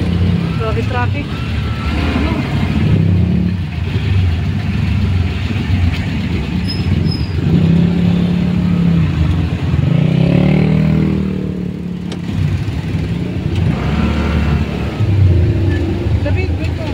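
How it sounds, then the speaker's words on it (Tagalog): Heavy traffic crawls along the Antipolo zigzag road, with engines rumbling and idling up close, a steady drone of cars and motorcycles while people talk nearby. "Grabe traffic."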